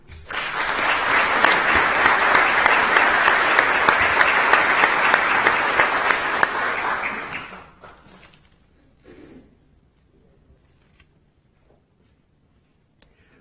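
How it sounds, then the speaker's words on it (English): A crowd at a Florida pro bono legal awards ceremony applauds an award recipient, a dense, sustained wash of clapping for about seven seconds that fades out into near quiet with a few scattered claps and faint room noise. "Please give all of our honorees one more collective round of applause."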